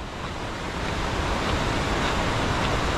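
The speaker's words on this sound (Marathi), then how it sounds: "ओ भाई साहब आवाज बघा पाण्याचा" Veer Devpat waterfall sends out a loud, steady, broadband roar of rushing water. It is close and constant, with no voices over it.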